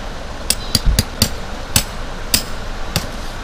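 A non-vibration hammer drives tent pegs into the ground while pitching a Durango Mini tent outdoors, giving about eight sharp, separate strikes at an uneven pace, close and fairly loud, with no voices.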